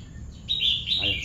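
Birds chirp close by in two bright, clear calls, the second overlapping a brief low voice, against quiet outdoor background hum.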